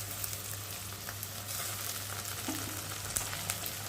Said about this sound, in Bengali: রসুনটাকে ভালো করে পেঁয়াজের সাথে একটু ভালো করে ভেজে দেবো